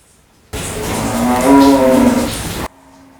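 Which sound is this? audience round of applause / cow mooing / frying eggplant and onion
cow mooing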